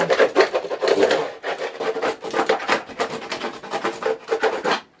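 Rapid, rhythmic rubbing and scraping as the end of a hammer burnishes tape onto a table, pressed back and forth in quick repeated strokes, close and steady with brief pauses.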